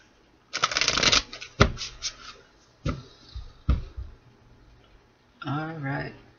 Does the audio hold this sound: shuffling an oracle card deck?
yes